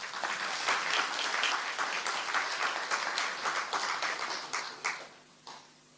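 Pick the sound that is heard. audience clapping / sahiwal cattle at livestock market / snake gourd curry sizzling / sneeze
audience clapping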